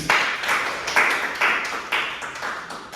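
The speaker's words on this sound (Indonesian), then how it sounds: "Bisa kita beri tepuk tangan sekali lagi." A small group claps in several bursts of applause, each swelling and fading, close by and with no talking over it.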